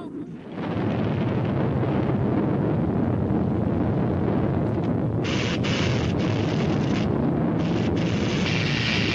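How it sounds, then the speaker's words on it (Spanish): A continuous, loud roaring rumble of an explosion in an animated Superman cartoon, with wind buffeting throughout and hissing bursts rising partway through. "¡Explosión, explosión!"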